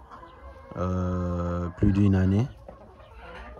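An adult rooster on a small farm gives two loud, drawn-out calls close by, with someone speaking French briefly at the end.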